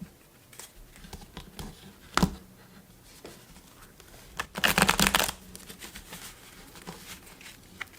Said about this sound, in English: I did shuffle a few times already off camera. I'll do it a couple more.